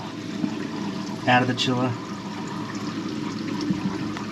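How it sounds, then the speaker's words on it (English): Water rushes steadily through the plumbing of a Waterbox frag aquarium, coming out of the chiller. A constant flowing hiss sits beneath someone talking briefly partway through. "you can see the water flows through"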